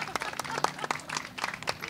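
An audience at a book conference applauds with scattered, uneven claps that rise and fall, while voices talk over the clapping.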